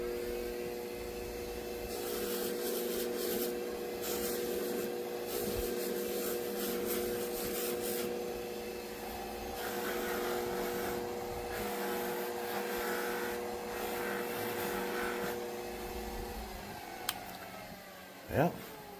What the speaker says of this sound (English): And then on to the polishing machine at this point.